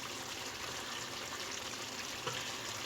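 Korma bhuna-frying in a pan with green chillies, a steady dense sizzle across the whole stretch with one brief soft clink near the end, close and continuous with no voices.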